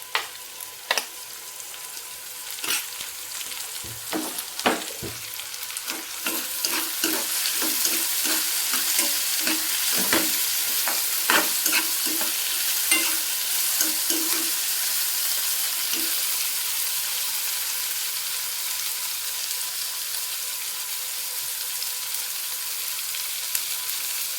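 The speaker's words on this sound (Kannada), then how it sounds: "ಈಗ ಟೊಮೊಟೊ ಹಾಕ್ಕೊತೀನಿ. ಕಟ್ ಮಾಡಿ ಇಟ್ಕೊಂಡಿರೋಂತಹ ಹಸಿಮೆಣಸಿನಕಾಯಿ ಹಾಕ್ಕೊತೀನಿ." Tomatoes and green chillies fry in a pan with a steady, close sizzle. Scrapes and clicks of stirring run through the first half, then the frying settles into an even hiss with no talking.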